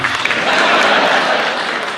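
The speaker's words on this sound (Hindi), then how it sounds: "तालियां इसलिए बजवा रहा हूँ क्योंकि बाद में भरोसा नहीं" A crowd at a Hindi comic poetry gathering keeps clapping, a brief dense burst of many hands that stays steady and fairly loud before easing slightly at the end.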